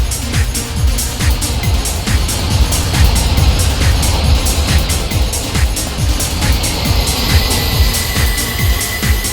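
Flying Scotsman steam locomotive racing past in Train Simulator Classic, a loud, steady rumbling roar with rapid rhythmic chuffing pulses and faint high whistling tones throughout.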